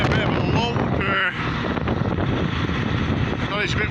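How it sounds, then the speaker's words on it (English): Wind buffets the microphone outdoors on a farm during third-cut silage work, a steady broadband roar that stays loud across the whole stretch with gusty swells and a brief lull. "Oh, it's a bit windy as well."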